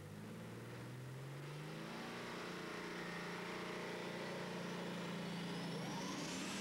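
A heavily built pulling tractor, assembled on a British farm, thunders down the track at a tractor pulling event in Bernay, its engine loud and steady, whining upward in pitch as it pulls toward a full pull.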